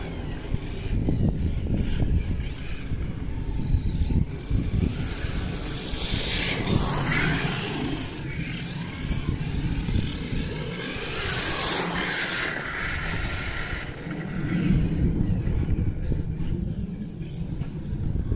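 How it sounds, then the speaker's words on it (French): A Leopard 1600kv motor drives a large RC car on 8S batteries with a 14-tooth pinion and cheap Chinese wheels, running outdoors in near-freezing cold; a steady loud whine and rumble persists throughout, rising in two strong surges. "C'est vrai que le moteur Léopard là il est d'une violence."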